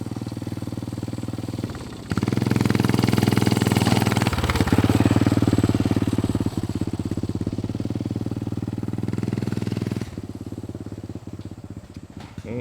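A buried, recovered mini bike with a lowered frame runs its small engine nearby: a steady, buzzy chugging drone that rises in throttle, dips briefly and settles, with no talking.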